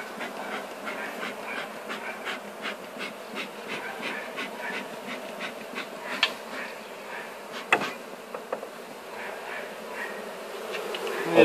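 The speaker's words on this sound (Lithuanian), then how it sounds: "Girdisi sąmyšis avilyje, bitės nerimsta." Agitated honeybees swarm and buzz inside a beehive, a dense, continuous drone with wavering pitch and a few sharper knocks, close and steady without any voices.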